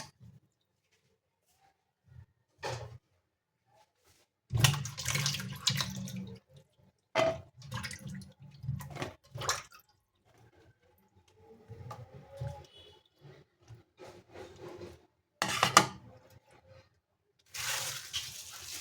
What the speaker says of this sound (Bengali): মাছ ধুয়ে নেব।